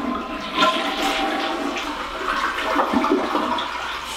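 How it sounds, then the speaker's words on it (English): A newly installed toilet in a barndominium flushes with a rushing, gurgling swirl of water that surges, then settles into a steady refill hiss, close up and with no talk. "That is the sound of a toilet"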